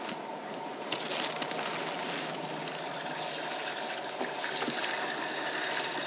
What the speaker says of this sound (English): as you can see, the water's flowing